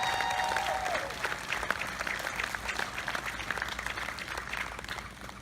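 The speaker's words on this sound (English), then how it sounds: "Let's have a round of applause for our Color Guard." Audience applause for an Air Force base honor guard's color guard at a US Army jazz band concert, a steady wash of clapping throughout with a faint tone at the start.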